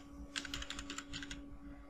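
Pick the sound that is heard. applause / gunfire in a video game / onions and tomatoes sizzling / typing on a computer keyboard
typing on a computer keyboard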